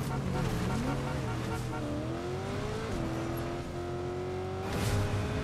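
A pink car in Fortnite drives with a steady engine drone whose pitch climbs and shifts as it changes gear. The engine stays loud and constant throughout, and a player talks over it.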